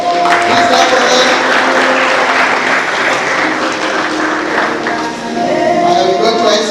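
Loud applause from a conference audience greeting an award winner, continuous dense clapping with a cheering crowd roar and voices mixed in, dipping briefly near the end before swelling again.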